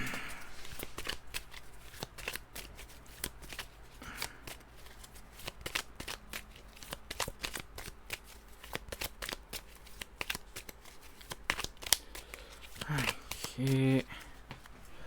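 Cards from the board game The 7th Continent are shuffled and drawn in a rapid series of crisp flicks and riffles up close, with a voice speaking now and then over the handling.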